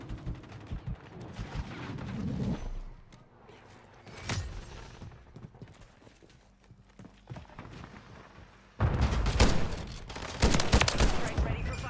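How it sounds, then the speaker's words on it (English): A shotgun fires in Call of Duty MWZ, giving several loud, booming blasts among rattling gunfire and combat noise, with a heavy burst of shots near the end. "This shotgun is crazy."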